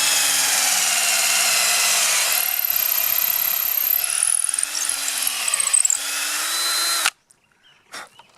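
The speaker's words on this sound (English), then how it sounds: "My drill bit is not the sharpest in the world, so" A power drill with a dull bit boring holes into a log for mushroom plugs: a loud, continuous whine close by that shifts in pitch as the bit grinds into the wood, then cuts out abruptly, leaving brief quiet handling noises.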